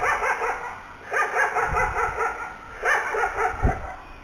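A neighbour's pet dog barks repeatedly outside a house doorway, a series of moderately loud barks in uneven bursts against steady background noise.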